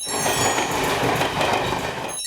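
Mahakaushal Express passenger train running on rails, a steady loud rumble with rhythmic clatter of wheels throughout, close and continuous without speech.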